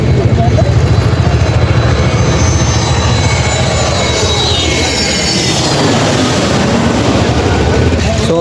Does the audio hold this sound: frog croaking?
no